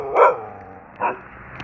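A dog near a hotel in Thailand gives two close, loud barks about a second apart, followed by a faint third yip at the end.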